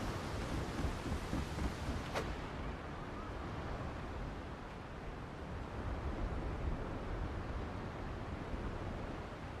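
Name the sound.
rain and thunder in a video game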